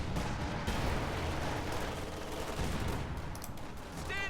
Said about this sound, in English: Mortar is firing.